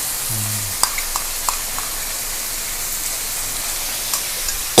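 New Zealand mussels stir-fried in a pan with soy sauce, oyster sauce and sugar give a steady, close sizzle, with a few sharp utensil clicks scattered through it and no talking.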